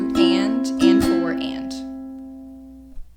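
Ukulele strumming the measure 6 rhythm of a song, close and clear, with two bright chord strums followed by a ringing, slowly fading chord.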